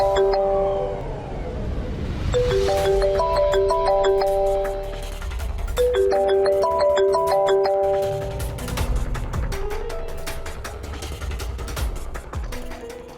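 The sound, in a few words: phone ringing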